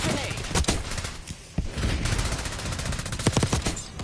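Rapid automatic gunfire in a video game, with dense bursts of shots crackling throughout and a brief lull midway, while voices talk over the action.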